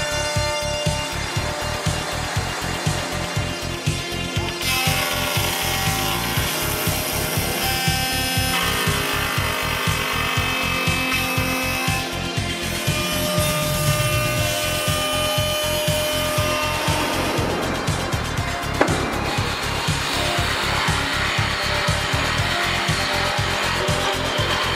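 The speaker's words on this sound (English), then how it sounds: "For log homes, a special cutter is available which can complete an H-type corner connection in 10 seconds" A K2 woodworking machine cuts an H-type corner joint into a log for a log home with a loud, steady whine of motor and cutter. The pitch and texture change partway through the cut.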